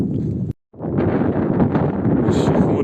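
Strong wind buffets the microphone on open, flat, empty ground, a loud continuous roar briefly cut out near the start, then returning steadily.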